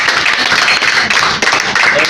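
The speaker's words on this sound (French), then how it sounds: "Applaudissez à Dieu." Congregation in a church applauding, a loud dense continuous wash of clapping hands with some voices and shouts blended underneath.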